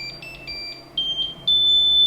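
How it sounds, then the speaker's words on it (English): A 3D printer beeps during a firmware flash: a run of short, high electronic beeps, quickening, then settling into one continuous tone, loud and clear without talk. "you already hear that annoying beep, beep, beep."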